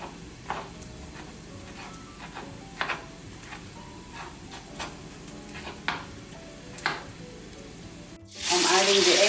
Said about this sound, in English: I'm going to add it to the frying garlic